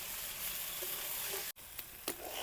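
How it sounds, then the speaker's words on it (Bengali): Rice and lentils frying in a pan with salt, turmeric, green chilli, ginger and cumin paste for egg khichuri, giving a quiet, steady sizzle with a brief stir or two and no talk. "সব কিছু মিশিয়ে কিছুটা সময় ভাজে নিব।"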